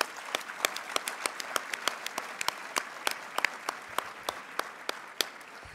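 Gala audience applauding for a journalist being honoured at the 2014 CJFE Gala, a steady patter of many hands with a few sharper individual claps, moderately distant and free of talk.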